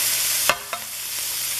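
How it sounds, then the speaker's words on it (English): Vegetables sweat in a pan for a Thai peanut stir fry with a steady, close sizzle. A couple of sharp stirring knocks break through the hiss. "about a minute and sweat them down, and then I'm going to add the garlic"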